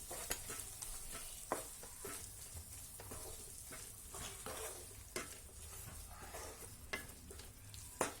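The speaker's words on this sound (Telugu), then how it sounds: "ఈ పేస్ట్లో ఈ క్యాబేజ్ అంతా ఫ్రై అవుతుంది." Cabbage with capsicum, carrot, potato and beans frying in a spice paste on a tawa for street-style pulao: a quiet steady sizzle broken by occasional sharp ladle clinks against the pan, no voices.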